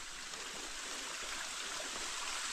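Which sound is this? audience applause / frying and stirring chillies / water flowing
water flowing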